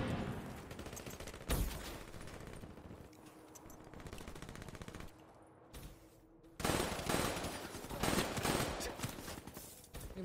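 Rapid automatic gunfire from Call of Duty Black Ops 4 multiplayer gameplay, loud bursts of fire repeating across the clip with a brief quieter gap in the middle before heavy shooting resumes.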